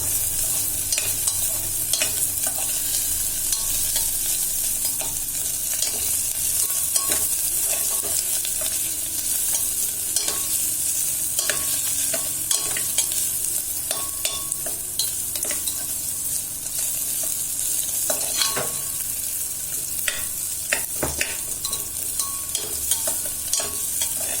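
Grated onion fries in a pan for brinjal pulao, a steady close sizzle with frequent stirring scrapes and sharp crackling pops running throughout, no voices.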